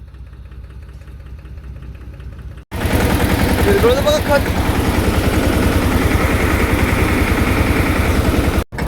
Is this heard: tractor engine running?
yes